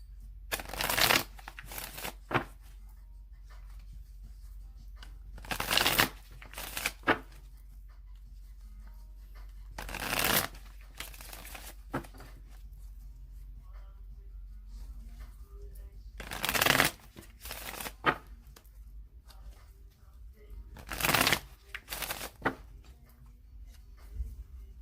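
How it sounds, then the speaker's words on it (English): A deck of tarot cards is shuffled by hand in repeated bursts of riffling and flicking, each lasting about a second and separated by quiet pauses, in a quiet indoor room. "I'm going to shuffle it 3 more times"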